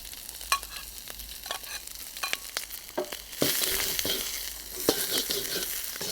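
Onion dropped into hot oil in a wok for a chicken stir-fry: light taps and clatter first, then a sudden loud burst of sizzling that keeps hissing steadily up close, with a few stirring scrapes.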